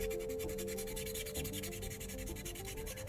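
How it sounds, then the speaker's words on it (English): Sandpaper rubs back and forth across a used computer processor, making a steady, close, rapidly repeating gritty scraping with no voices. "even by listening to the sound of the sandpaper, I would know what's really happening in there"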